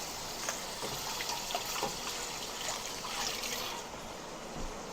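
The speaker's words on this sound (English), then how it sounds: "wash my hands." Hands are washed under a running kitchen tap, a steady close stream of water with faint splashing and shifting as the hands move through it, no talking.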